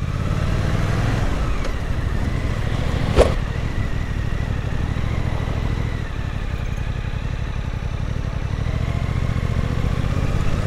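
A small motorcycle suited to a newly licensed rider, engine running steadily while riding, a loud constant drone with wind rush, one sharp click partway through, and no speech.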